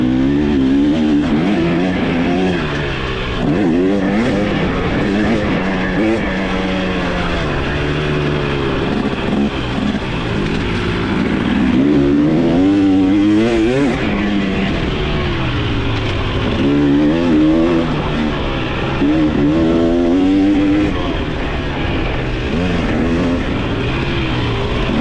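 A 2023 KTM 300 XC TBI two-stroke dirt bike rides a turn track, its engine loud and close for the whole stretch, repeatedly revving up and dropping back through shifts and corners with no talking.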